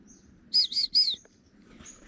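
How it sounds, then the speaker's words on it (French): A small bird near a nest of chicks gives three quick, high chirps in a row, clear and close against a quiet background, with a fainter peep toward the end. "J'ai mis vachement bien le bruit du piaf"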